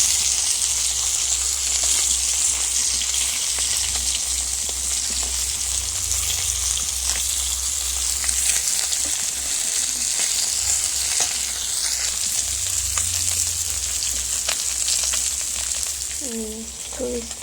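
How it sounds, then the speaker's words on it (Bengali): Fish frying in oil in a pan, a loud, steady sizzle with crackling pops lasting throughout, a low hum beneath it and a short voice speaking at the very end. "মাছটা পুরো লাল করে ভেজে নিয়েছি, মাছগুলো খুবই সুন্দর ভাজা হয়ে গেছে।"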